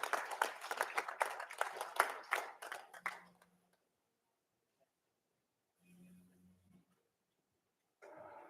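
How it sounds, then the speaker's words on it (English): Scattered hand clapping from an audience at a school board meeting rises under a voice for a few seconds, then fades to near silence with a couple of faint noises afterward. "Round of applause, please, for Todd Bowen."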